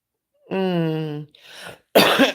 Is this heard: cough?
yes